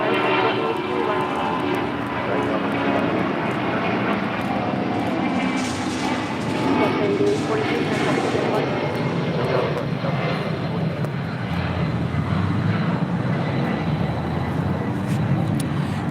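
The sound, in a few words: Delta Airlines Boeing 757-200 taking off at LAX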